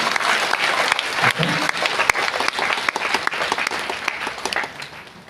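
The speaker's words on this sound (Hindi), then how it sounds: "तो उस बिहार के लिए एक जोरदार" An audience bursts into loud, steady applause for Bihar, with dense clapping that continues for about five seconds.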